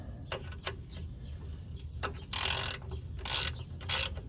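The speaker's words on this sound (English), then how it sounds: "Now we can take our socket, or your ratcheting wrench if you used one" A ratcheting wrench tightens a shock absorber nut on a 1993-2010 two-wheel-drive Ford Ranger front suspension, with scattered ratchet clicks and then three bursts of rapid clicking, close up over a low background rumble.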